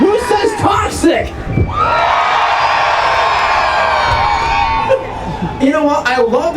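A loud arena crowd at a Gaithersburg, Maryland monster truck show erupts in sustained cheering and yelling for the Toxic truck, with an announcer talking before and after the roar.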